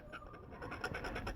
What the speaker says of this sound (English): That's the sound of my tool scraping the striations.